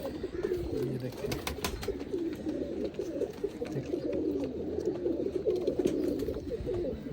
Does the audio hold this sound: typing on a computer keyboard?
no